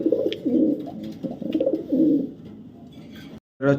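Red-marked racer pigeons coo in repeated low, throaty bursts close by, a few soft calls rolling one after another with short pauses, ending in a brief louder flutter of sound.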